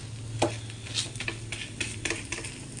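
Pesarattu, a mung bean dosa, roasts on a hot pan with soft crackling sizzle and a series of light scraping, tapping strokes, close and fairly quiet.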